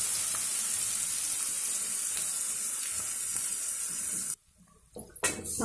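Onions sizzle in a pan for chicken curry, seasoned with salt and turmeric, giving a steady loud hiss and crackle that cuts off abruptly near the end, followed by a few soft clinks.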